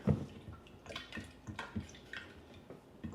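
Warm water poured into a gluten-free sourdough starter and stirred, heard as soft, quiet wet splashes and scraping stirs in an irregular rhythm, close and faint.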